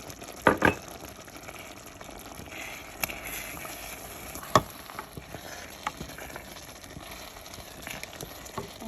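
Tomatoes and okra simmer in a pan over medium heat for a gnawiya stew, a soft continuous sizzle and bubbling with a couple of sharp utensil knocks near the start.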